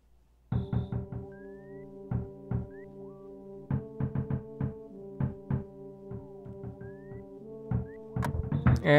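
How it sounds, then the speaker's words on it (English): Knocking at a door in the video game EarthBound, a long series of sharp, clear electronic knocks in irregular bursts and pairs, loud and alone with no talk over them. "Someone's knocking at the door. What an annoying knock."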